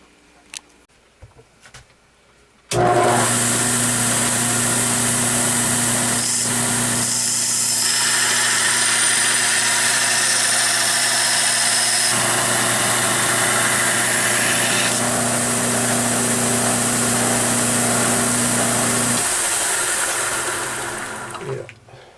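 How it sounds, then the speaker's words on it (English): A bench grinder works an 80CRV2 steel blade, a loud, sustained hissing grind with a steady motor hum that starts abruptly, runs for about twenty seconds with small shifts in pressure, then winds down. "I've got one on the grinder right there."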